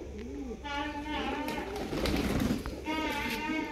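Pigeons in a breeding setup give soft, rolling coos repeated several times, close by, while someone talks over them throughout.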